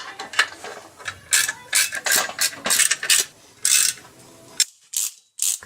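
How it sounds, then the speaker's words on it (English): A wrench ratchets as clutch bolts on a BMW E36 manual swap are tightened in a star pattern, giving repeated close, crisp clicking bursts separated by short pauses. "I'm going to tighten them down with a wrench first, sort of in a star pattern"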